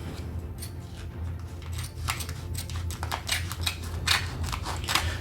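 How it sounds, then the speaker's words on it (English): Scissors cut down a plastic comic bag used to wrap a vintage Penguin paperback, making quiet, close crisp snips and crinkles over a low hum. "we'll just cut this comic bag down"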